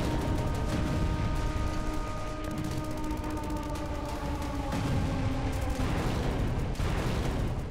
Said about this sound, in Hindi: ईरानी मिसाइलों को रोकने के लिए इरबिल में तैनात एंटी एयरक्राफ्ट गन से फायरिंग शुरू कर दी गई।